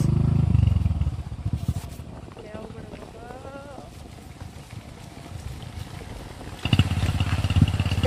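A motorcycle riding along a road, its engine rumbling loudly at the start and again near the end, with wind buffeting the microphone and people talking during the quieter middle.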